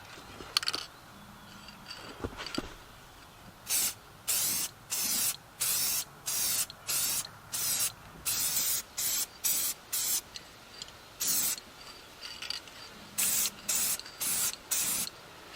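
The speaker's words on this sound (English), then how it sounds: "I'm going to spray it. We chose purple." A spray can coats a metal feed pan shelf in purple paint in a rapid series of short, hissing bursts, each about half a second long, separated by brief quiet gaps.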